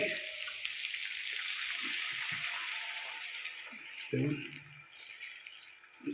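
Water pours steadily into a cooking pot with a continuous hissing splash, while people talk and laugh close by.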